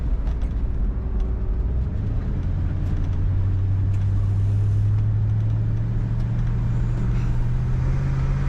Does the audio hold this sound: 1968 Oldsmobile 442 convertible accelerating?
yes